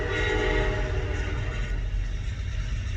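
A train passes close by with a loud, sustained horn blast layered over a heavy low rumble of the cars rolling along the tracks, the horn tone holding steady before the rumble carries on alone.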